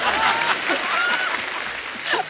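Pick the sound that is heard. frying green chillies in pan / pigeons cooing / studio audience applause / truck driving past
studio audience applause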